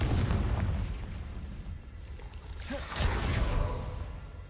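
Fiery Confringo spell blast from Hogwarts Legacy: rumbling booms and crackling bursts over a low roar, with a sharp swelling explosion near the end, loud and close.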